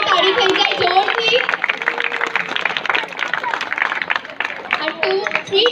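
Applause and cheering from an audience at an outdoor street Navratri garba prize-distribution event, a dense steady wash of clapping that holds loud and continuous throughout with crowd voices mixed in.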